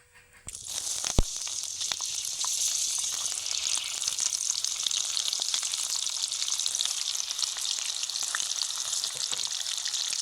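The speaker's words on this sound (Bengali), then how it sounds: "এই জবা ফুলটাকে তেলের মধ্যে কিন্তু খুব ভালোভাবে ভাজতে হবে" Hibiscus flowers fry in hot oil with a loud, continuous hissing sizzle. One sharp knock comes near the start, then steady crackling with faint pops goes on throughout.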